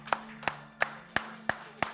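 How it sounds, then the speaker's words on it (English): A church congregation claps hands together in a steady, unified rhythm, six crisp claps roughly a third of a second apart over a low organ drone during a Sunday worship service. "Give the Lord a hand clap today."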